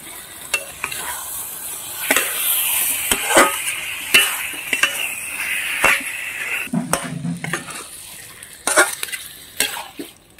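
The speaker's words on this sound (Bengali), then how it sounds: "এইবার মাশরুমগুলো ছেড়ে দিচ্ছি" Mushrooms stirred in a pan with chilli powder, turmeric and sugar, a continuous sizzle under repeated sharp scrapes and taps of a spoon against the pan, close and fairly loud with no voice.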